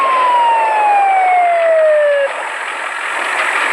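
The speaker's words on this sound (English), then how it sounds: "the ambulance arrived with paramedic Brad Malone and his partner" A loud siren wails close by, its tone falling steadily before cutting off and leaving a steady engine and road roar.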